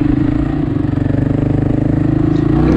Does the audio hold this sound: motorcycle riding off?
yes